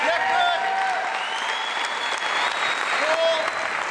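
Sustained applause from an audience at a national lead climbing championship finals in Cape Town, dense and steady for several seconds, with a few whistles rising above it.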